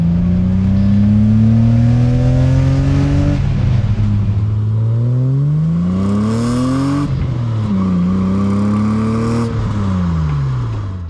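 A BMW E30's engine revs repeatedly through a new exhaust, its deep exhaust note climbing and falling in pitch over several pulls, loud and close, with no talking.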